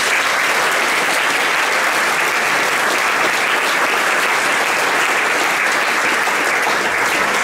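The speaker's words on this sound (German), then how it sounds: "einen riesen Applaus" A concert audience gives a brass band sustained, loud applause, a dense and even wash of clapping lasting throughout with no talk over it.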